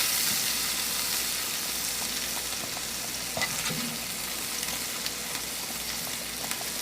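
Ground turkey meatballs sizzle steadily in tomato sauce in a pan, a soft continuous crackle with a few faint clicks and stirring knocks, no voices.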